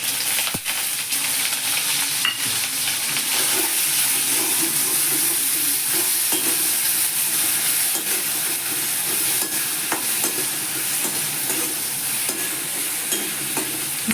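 Whole onions tipped into a hot pan of oil with ginger, chili and chutney for a Gujarati onion curry, sizzling and frying in a steady, loud hiss that runs throughout with no talking.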